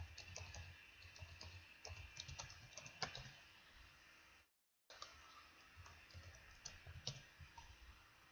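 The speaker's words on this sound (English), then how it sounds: "Just let me type it up real quick." Someone types a message on a computer keyboard in a quick, continuous patter of close, light key clicks with irregular bursts, a brief silent break midway, and no talking.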